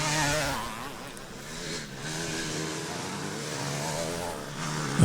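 Vintage twin-shock motocross motorcycles race up a hill at the 2011 Veterans MXDN at Farleigh Castle, engines droning and revving at a moderate distance with a steady rising and falling pitch.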